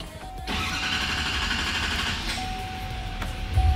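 A 2020 GMC Sierra 6.6 pickup engine starts, with a sharp catch near the start that settles into a steady, fairly loud running hum and a faint high whine, heard alone at close range.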